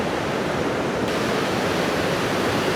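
Niagara River white-water rapids in Canada roar steadily, a dense, loud, continuous rush of churning water heard up close with no voices.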